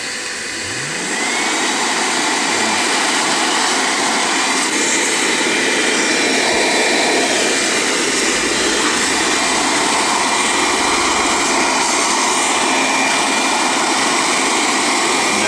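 A loud, steady motor roar with whooshing air runs continuously as a blower and vacuum clean a Toyota Grandia nearby.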